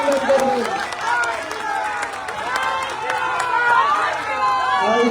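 A crowd at an outdoor political rally applauds and cheers to welcome a visiting leader, with clapping and crowd noise running throughout and a voice talking over it.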